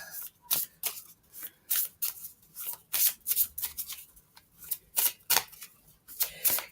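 Oracle cards being shuffled by hand, a rapid run of crisp riffling flicks and slaps repeating in an irregular rhythm, close and clear with no talk.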